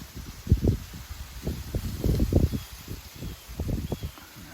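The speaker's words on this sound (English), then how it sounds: "Sadly, the wind has picked up today too, though." Wind gusts across a clear cut during a hunt, rustling vegetation in soft, uneven bursts that swell and fade against a quiet background hiss, with no talking.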